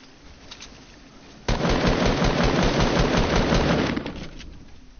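Rapid gunfire from a shotgun in the Fortnite video game, a sudden loud burst of repeated shots that continues for a few seconds before fading, with quieter game sounds before it.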